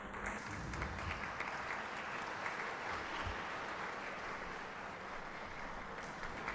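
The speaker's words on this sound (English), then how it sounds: "A huge round of applause, friends." Lecture audience at a university hall applauds in a dense, continuous wash of clapping, heard from some distance and fairly faint, with no talking over it.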